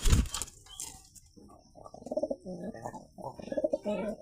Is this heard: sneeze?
no